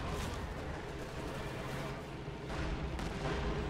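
An anti-tank grenade blast in the World War II strategy game Company of Heroes 2, set amid dense, continuous booming artillery and gunfire rumble, loud and sustained throughout with a low voice faintly underneath.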